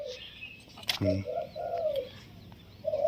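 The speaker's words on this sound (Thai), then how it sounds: "กุกกุกเยอะครับ แต่ว่าริวริวน้อยนะครับนกตัวนี้" A spotted dove kept as a caged songbird coos in several soft rounded notes, close by, with a sharp knock partway through and faint background noise.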